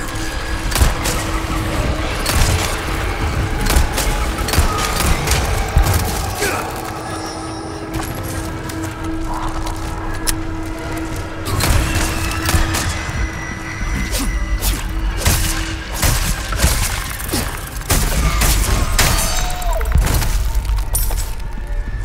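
Wet, crashing bursts of gore as enemies explode into goo in the video game Resident Evil 4 Remake. The sharp smashes come in rapid clusters over a dense, busy backdrop of loud combat noise that runs throughout.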